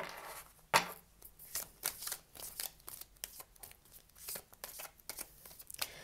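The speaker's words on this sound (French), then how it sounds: "on va prendre quelques cartes du Petit Lenormand pour pouvoir compléter le tirage" Petit Lenormand cards being handled and drawn from a deck, a series of close, soft slaps, flicks and papery shuffling sounds in an irregular rhythm, quiet and alone.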